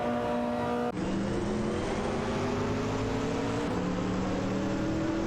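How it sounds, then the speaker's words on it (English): Race car engines roar steadily in a racing video game, a Nissan GTP ZX Turbo droning at high revs, with one abrupt gear change early on and a continuous loud, even engine tone throughout. "Street 4NBZH and Mainic are piloting the Nissan GTP ZX Turbo"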